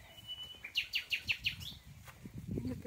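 A bird along a walking trail on the Chemin du Puy gives a quick run of about five bright, evenly spaced chirps, faint and somewhat distant, over quiet outdoor background noise.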